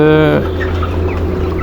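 A small young broiler chicken, one of a fast-growing batch, gives a short, loud clucking call close by, which breaks off after a moment into quieter barnyard background noise.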